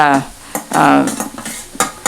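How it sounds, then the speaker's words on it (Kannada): A utensil scrapes and taps against a pan in short repeated strokes, close up, stirring leftover rice for cabbage fried rice, with a faint sizzle underneath. "ಇವಾಗ ಅನ್ನ ಮಿಕ್ಸ್ ಮಾಡ್ಕೋತೀನಿ"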